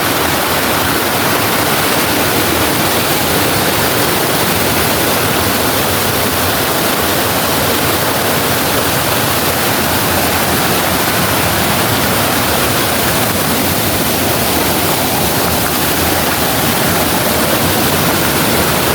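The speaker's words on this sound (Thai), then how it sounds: "น้ำตกลงมาจากข้างบนนะครับ ลงไปข้างล่าง" Waterfall at Sap Sa Kaeo, Khao Phlu, pouring down a rock face into the pool below: a loud, steady broadband roar that holds without a break for the whole stretch, with no voices over it.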